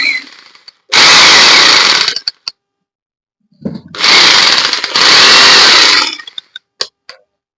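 A mains-powered electric drill machine whirs loudly in two long runs, starting abruptly and stopping with short clicks, with a brief pause between bursts and quiet clicking handling noises afterward.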